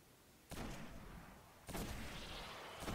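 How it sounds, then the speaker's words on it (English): Gunfire in Destiny: Rise of Iron, two loud broadband blasts about a second apart with a third starting at the end, each followed by sustained noisy wash over quiet background. "I shot that one right in the head"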